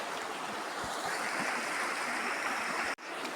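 A river flows continuously in a broad wash of water noise with occasional low thumps and a brief dip near the end, no voices present.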